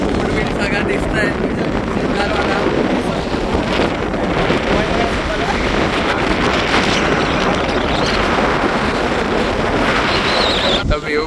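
Strong seaside wind buffets the microphone near Ratnadurg fort, a loud continuous roar with dense rumbling gusts and surf-like wash lasting the whole stretch, close and overwhelming.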